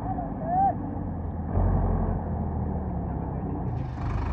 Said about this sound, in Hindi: DI 750 चार सिलेंडर ट्रैक्टर